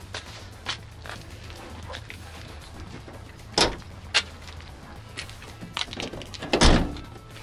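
A work car's door shuts with a couple of solid thunks, one in the middle and a heavier one near the end, over quiet outdoor background with faint footsteps around a car lot.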